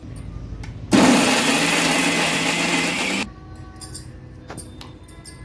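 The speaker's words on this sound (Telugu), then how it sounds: "మిక్సీ పట్టుకుందాం." A kitchen mixer grinder whirs loudly for about two seconds while blending coconut chutney with salt, coriander powder, cumin and fenugreek powder, then cuts off abruptly, leaving a few faint clinks and taps.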